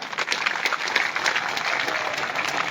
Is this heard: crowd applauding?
yes